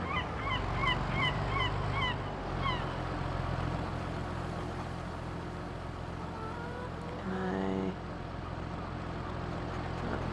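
Chickens cluck in the farm game Farming Simulator 22 as they crowd a feed trough. A flurry of short, quick clucks comes in the first few seconds over a steady low hum, with no talk.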